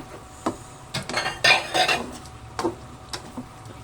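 Igado stirred in a pot with a metal utensil, a few distinct clanks and scrapes against the pot over a faint sizzle, close and fairly loud, no talking.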